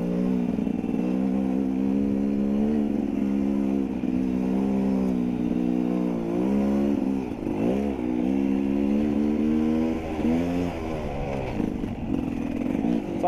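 An Apollo 250cc motorcycle being ridden, its engine droning steadily and loud up close with repeated rises and dips in revs as it accelerates and eases off.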